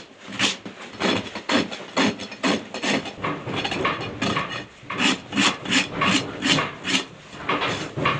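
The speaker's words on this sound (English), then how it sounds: "then we'll use the rasp and we'll get it balanced" A farrier's rasp files a horse's hoof in a steady run of about fifteen scraping strokes, close and alone.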